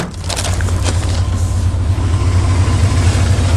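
A 1992 GMC Astro van with a 305 engine idling roughly after a cold start, a loud, close, steady low rumble with uneven pulsing and no talking.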